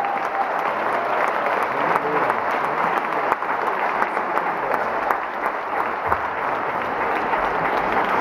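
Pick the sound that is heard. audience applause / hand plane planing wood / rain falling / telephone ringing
audience applause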